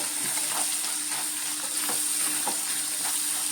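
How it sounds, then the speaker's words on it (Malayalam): Curry leaves sizzle in hot salted oil in a pan for Kerala-style fish molly, a steady close crackling hiss with small pops scattered throughout and no voices. "ഇതിന് ഉപ്പ് എണ്ണയിൽ ചേർക്കും അപ്പോൾ ഇച്ചിരി കരിയാപ്പലയും കൂടി ഇടാം ഇതിലേക്ക്"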